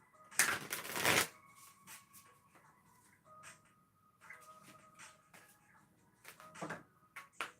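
Deck of oracle-style cards being riffle shuffled, a brief crisp burst of close card flutter at the start, followed by light taps and handling sounds.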